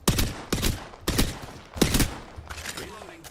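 Rapid automatic gunfire from the video game Apex Legends comes in several close, punchy bursts about half a second apart, fading into a softer trailing rattle near the end.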